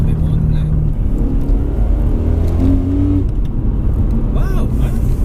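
A BMW M3 track car's engine drones loudly from inside the cabin, with heavy intake noise and a rising rev. The roar is continuous and close, and people talk over it.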